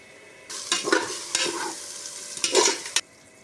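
Sliced tomatoes fry in a pan of biryani base, stirred with a spoon in a few scraping bursts over a steady close sizzle, with no talk.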